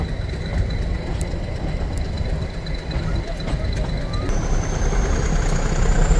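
The Ooty mountain toy train rumbles steadily and loudly as it climbs away from Wellington station on the Coonoor–Udhagamandalam line, with continuous engine noise and rattling, faint speech mixed in, a high tone appearing near the end.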